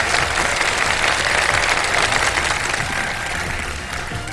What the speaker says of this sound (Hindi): तीनों पार्टिसिपेंट्स के लिए बहुत सारी तालियां तीनों टीम्स के लिए